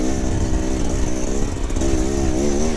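A 2024 Beta Xtrainer 300 dirt bike engine lugs at low revs in second gear up a steep climb, a loud, close, continuous thrumming drone with a slight surge and dip partway through.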